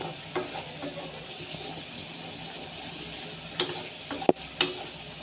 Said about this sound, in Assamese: এয়া তেল বিৰিঙিছে।